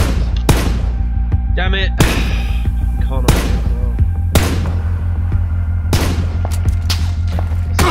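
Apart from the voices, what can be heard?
gunfire in the video game PUBG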